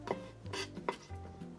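Kitchen knife cutting garlic cloves on a board for a one-pan pasta garlic sauce, a few soft, close chopping knocks spaced irregularly across a quiet room.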